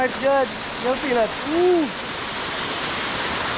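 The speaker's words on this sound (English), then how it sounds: "a cool Tobago waterfall" Cool waterfall in Tobago on an easy forest hike, a steady broad rush of falling water close by, with excited voices and whoops over it at the start.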